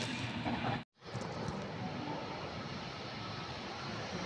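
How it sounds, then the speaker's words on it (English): A Waratah electric train rumbles past Petersham station at night, a loud, broad roar that cuts out briefly near the start and then carries on steadily. "We have another Waratah"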